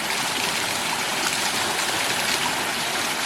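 Steady rushing water of a river flows continuously, a dense broadband wash like a fast stream, close and constant with no voices.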